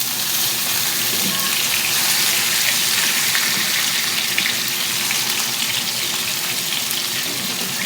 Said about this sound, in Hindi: मेरा फ़िश जो है वो 5 मिनट में फ्राई हो चुका है